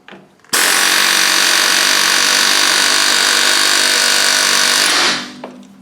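A power tool, likely an impact wrench, spins a nut off an A-frame bracket on a car's rear suspension, a loud close continuous buzzing whir for about four and a half seconds that starts abruptly and winds down.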